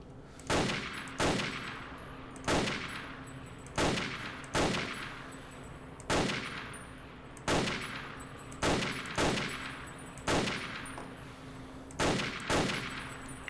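Rapid bursts of video game gunfire from a fighting position, about ten sharp shots in uneven clusters, each loud blast trailing a short echoing decay over a steady low hum.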